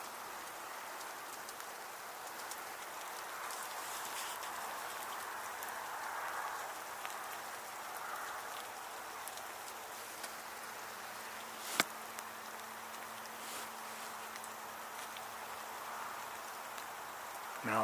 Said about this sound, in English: It's still raining, but it's eased up a bit